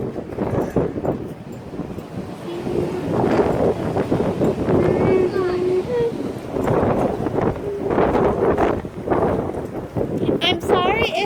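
Strong gusts buffet the microphone outdoors on a windy day, a steady low roar with rising and falling surges throughout, while people talk over it.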